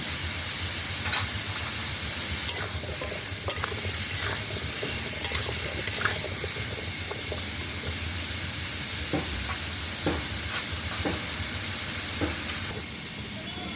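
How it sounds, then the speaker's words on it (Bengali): Potato and pumpkin sizzle in hot oil with salt and turmeric in a pan over an outdoor clay stove, a steady hiss broken by occasional clinks and scrapes of stirring. "তো আমার আলু কুমড়োটা ভাজা হয়ে গেছে,"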